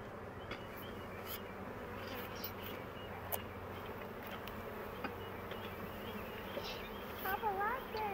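Honeybees buzz densely around a hive during an inspection, a continuous droning hum of many insects close by, with brief louder passes of individual bees and faint voices in the background.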